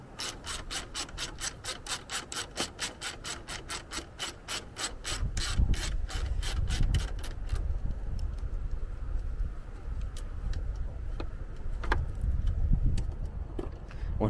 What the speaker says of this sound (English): So we're gonna go ahead and take that one bolt off, which is right here.